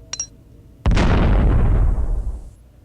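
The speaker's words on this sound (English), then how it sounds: "let's drop the bomb right there" A bomb goes off in the video game Lode Runner Online: after a few faint clicks, one loud, close blast bursts out and rumbles through a long fading tail.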